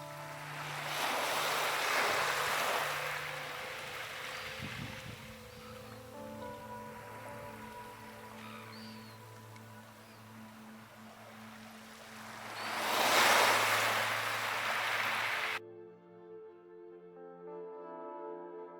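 Broad ocean surf washes in steady waves on a calm beach on New Zealand's Coromandel Peninsula, swelling twice to louder crashes before cutting off to quiet.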